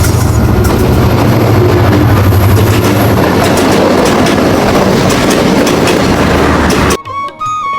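Titumir Express rushing past an AC sleeper carriage of the Banglabandha Express: a loud, continuous roar of rumble and wheel clatter for about seven seconds, then an abrupt drop to quiet.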